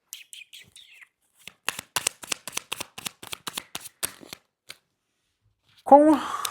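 Oracle cards being shuffled at close range, a fast run of crisp riffling flicks in bursts, followed by a brief voice at the end.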